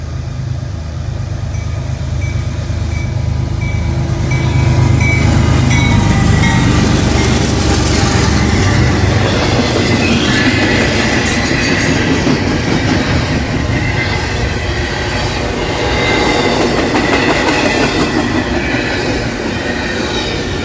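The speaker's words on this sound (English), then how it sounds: "we got a northbound intermodal here, 220 axles" A CSX northbound intermodal freight train of 220 axles rolls past on the old B&O line, a loud, steady rumble with rail clatter and faint wheel squeal, no voices.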